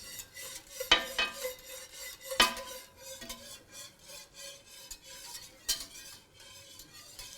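A spoon stirs homemade pudding as it thickens in a pan, making close scraping and rasping strokes with a few sharper clinks against the metal.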